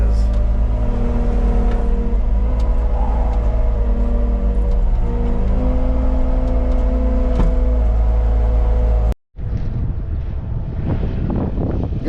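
A CAT dozer engine rumbles loud and steady while pushing dirt at a barndominium excavation site, with heavy wind buffeting the microphone and a brief cut near the end.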